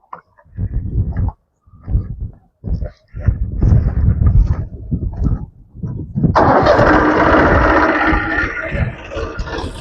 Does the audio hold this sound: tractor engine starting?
yes